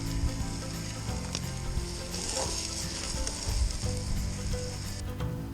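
An onion fries in a pan, giving a steady, close, continuous sizzle with faint stirring scrapes and no voices.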